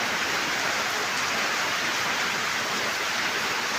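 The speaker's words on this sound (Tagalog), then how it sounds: "Ang lakas ng ulan na to." Heavy rain pours down in a dense, steady hiss, loud and unbroken throughout with no voices.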